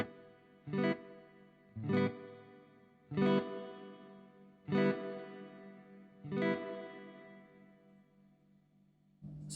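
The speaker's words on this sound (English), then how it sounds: "Let's pop on the reverb and see how that sounds." Five strummed electric guitar chords ring out one after another, each fading slowly into a spacious reverb tail, with another strum starting at the end.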